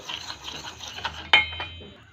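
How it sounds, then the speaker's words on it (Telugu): Faint scraping and soft clinks of a spoon in a bowl while pani puri dough ingredients with a pinch of baking soda are mixed. A sharper clink comes partway through. "ఇప్పుడు వీటన్నిటిని కూడా మిక్స్ చేసుకొని బాగా కలుపుకోవాలి."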